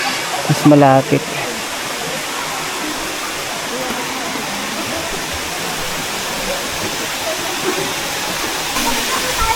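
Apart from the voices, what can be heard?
Batlag Falls waterfall in Rizal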